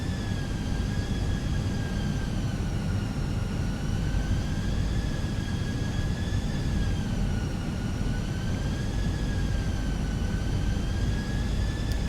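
Cockpit ambience during a simulated Airbus A320 approach to Toulouse in Microsoft Flight Simulator: a steady roar of rushing air and engine hum with a faint tone slowly rising and falling throughout, no voices.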